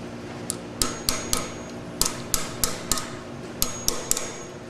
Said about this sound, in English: with the pair of pliers, you're just going to get that tab started so that it's easier to bend down with your hammer